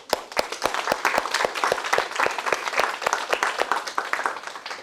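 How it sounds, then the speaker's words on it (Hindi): A small group claps after a science experiment on a school study tour at a regional science park, with distinct, fairly quick individual claps heard at moderate distance in a quiet room. "ये खुद ताली लगा दिया"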